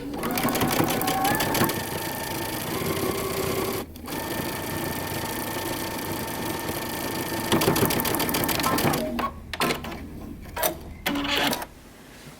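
A sewing machine topstitches a seam on a moto jacket in several loud, rapid runs separated by short pauses, ending in intermittent bursts and clicks, with some talking mixed in.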